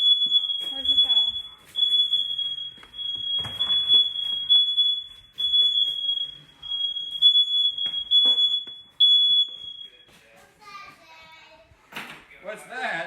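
A smoke alarm emits a steady, piercing high-pitched tone that continues for most of the clip, with children and adults talking underneath it.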